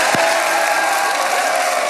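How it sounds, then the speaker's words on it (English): A council chamber crowd bursts into loud, dense, sustained applause after a unanimous city council vote approving a new Buddhist temple in San Jose, the clapping steady and unbroken throughout. "Thunderous applause after a unanimous vote by the city council approving San Jose's newest Buddhist temple"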